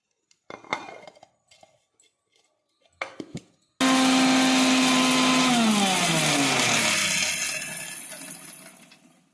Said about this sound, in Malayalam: പിന്നെ നമുക്ക് ഈ വറ്റൽമുളകൊന്ന് പൊടിച്ചിട്ട് വരാം